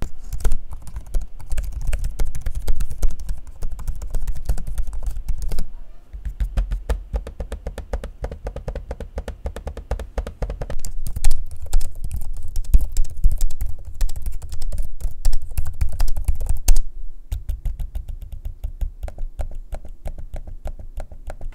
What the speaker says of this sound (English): so you can get a quick sample of what the keyboard sounds like and the trackpad in use